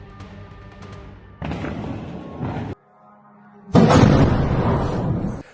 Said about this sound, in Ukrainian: Вибухи лунали в Гвардійському, Севастополі, Джанкої